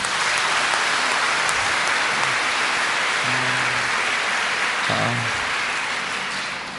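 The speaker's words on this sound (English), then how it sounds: "Can we give God a round of applause?" A congregation at a Sunday televised healing Mass claps in a round of applause, a dense continuous wash of many hands that holds steady and tapers slightly at the end, with a few faint voices underneath.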